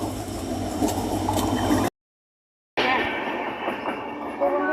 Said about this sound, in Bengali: দেখো ট্রেন চলে আসছে